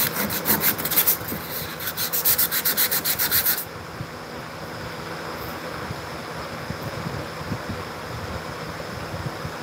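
Quick rhythmic strokes of hand sanding rasp loudly for a few seconds, then stop, leaving quiet background noise.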